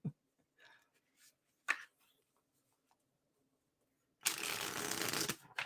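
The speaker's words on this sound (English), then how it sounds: "love how this deck shuffles." A burst of tarot card shuffling, a dense papery riffle lasting about a second, after a few quiet taps and rustles.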